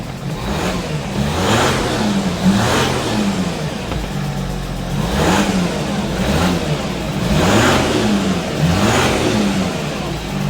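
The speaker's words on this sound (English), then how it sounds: "Let's rev up the engine and see if our code is gonna come back." A rough-running Audi Q7 diesel engine with a cylinder 1 misfire is revved repeatedly, rising and falling in a steady cycle of roughly five swells, loud and close with no talk.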